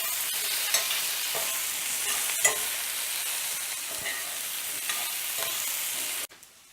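Baby potatoes fry in a cast iron skillet with a constant crackling sizzle, punctuated by occasional scrapes and clinks as they are stirred and turned, ending abruptly.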